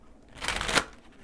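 Tarot and oracle cards being shuffled in a short riffling burst that swells and fades within about a second, close and fairly loud with no talking.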